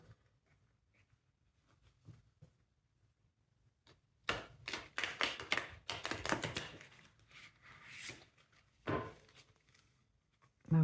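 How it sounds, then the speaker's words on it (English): A tarot card deck is shuffled close by in a quiet room: after near silence, a dense burst of quick papery riffles and slaps lasts several seconds, followed by a few isolated taps and a final card knock. "I'm going to shuffle the deck in a way so I can get some reversed cards as well."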